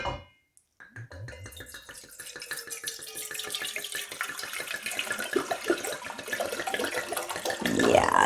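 Wine glugging from a 750 ml bottle into a pan, a steady pour that starts after a brief pause and builds in loudness, splashing close up until the end.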